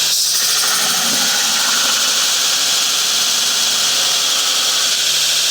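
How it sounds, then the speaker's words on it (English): A belt grinder fitted with a 60 grit belt runs near maximum speed against scrap metal, a loud, steady, high hissing roar that holds evenly throughout, close and without speech. "I swapped to a 60 grit belt, turned it up to almost maximum speed, and now I can make some serious sparks"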